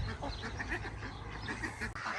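Ducks quack steadily at a breeding farm, Indian Runners among the Semois and emerald duck pens, with overlapping calls from several birds close by, continuous and busy throughout.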